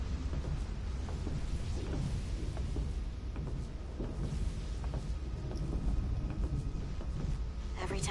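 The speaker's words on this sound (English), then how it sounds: "The storm is getting worse." Video game thunderstorm with constant heavy rumbling wind and rain noise, thunder rolls swelling and fading throughout, loud and dense with no pause.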